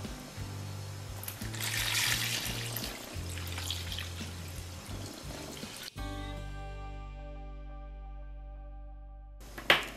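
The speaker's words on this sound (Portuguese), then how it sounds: "Vou colocar 1 litro de água." A litre of water is poured into a homemade liquid laundry and floor soap mixture with disinfectant. A steady splashing pour lasts several seconds, then a ringing resonant tail follows with a short splash at the end.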